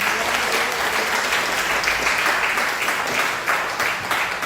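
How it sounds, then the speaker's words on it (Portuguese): A church congregation applauds steadily throughout, dense clapping at even loudness with no pause, filling the whole stretch. "Dê uma salva de palmas para Jesus."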